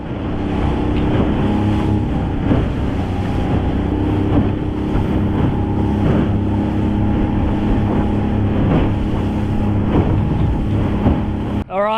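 A small crayfishing boat's outboard motor runs steadily on the water off Perth, a loud continuous droning hum mixed with wind buffeting the microphone, with no speech.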